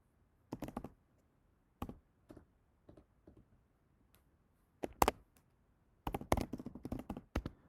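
Sparse bursts of keyboard typing, quiet clicks in short clusters separated by pauses, with a denser flurry of keystrokes near the end, close and otherwise silent.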